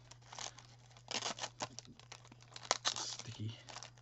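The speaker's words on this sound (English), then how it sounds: "Unwrap them and take a look at these." Clear plastic model kit parts for a Meng Type 823 Kubelwagen are unwrapped from a sticky plastic sheet, giving close, irregular crinkling and peeling rustles in quick bursts, with a brief murmur of voice.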